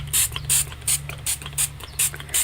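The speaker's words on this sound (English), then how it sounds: "get my spray bottle and just spray" A hand-pumped spray bottle spritzes water onto a watercolour painting, seven short crisp hissing bursts in a steady rhythm, close and distinct over a faint low background hum.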